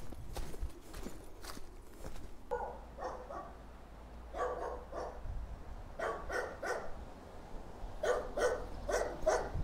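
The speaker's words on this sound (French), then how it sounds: "Ah, des chiens, il y en a, hein." Dogs bark in short repeated bursts along a pilgrim route arriving in Santiago de Compostela, moderately close, with footsteps and outdoor ambience underneath and no talk.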